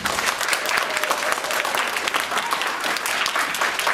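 A crowd at a school DARE graduation ceremony breaks into dense, sustained applause, loud and even throughout with no voices over it.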